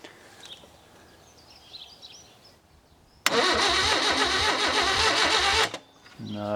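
The engine of a vintage Suzuki LJ50 jeep, abandoned for 20 years, cranks on the starter in a rhythmic, chugging burst of about two and a half seconds without catching, after quiet background sounds.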